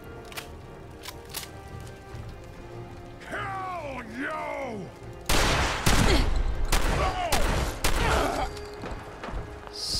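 Missile launcher blasts and gunfire in the Fallout 4 game: scattered sharp shots, then a heavy explosive burst and a dense volley of fire, with a voice groaning and crying out over the battle.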